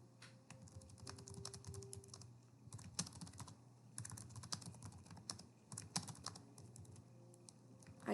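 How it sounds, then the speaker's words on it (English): Typing on a computer keyboard while entering student instructions into an online learning app: steady, quiet, close key clicks in irregular bursts, alone with no talk. "Then type in student instructions."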